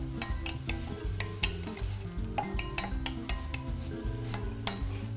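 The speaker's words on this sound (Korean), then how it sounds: "채썬 표고는 고기와 같이 볶아주세요." Beef and shredded shiitake mushrooms are stir-fried in a pan, with a steady sizzle under repeated clinks and scrapes of a utensil against the pan in an uneven rhythm, close and clear with no talking.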